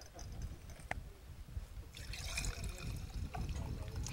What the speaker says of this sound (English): then you simply pour over ice.